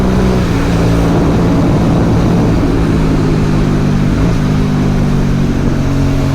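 Aprilia Dorsoduro 750 twin-cylinder motorcycle engine droning steadily at high revs while riding, loud and continuous with a rough, throbbing tone and wind rush throughout.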